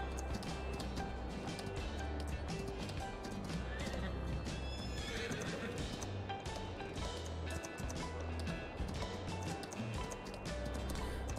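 A horse ridden in Farming Simulator 22 neighs and whinnies while its hooves clip-clop steadily underneath, with game ambience and music running throughout; the sounds are close and continuous.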